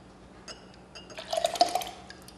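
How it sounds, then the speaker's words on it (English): Strawberry syrup, thicker than water, poured from a container into a glass in a home kitchen, a soft liquid trickle and splash that swells for about a second with light glassy ringing. "I need to take some of the strawberries off the top so I can pour this water."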